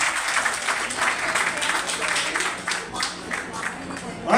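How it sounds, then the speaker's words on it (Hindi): Crowd applause for Neetu at an Independence Day (15 August) gathering, a dense steady wash of clapping lasting throughout, fairly loud and close, dipping briefly near the end. "नीतू के लिए तालियां तो बजा दो एक बारी"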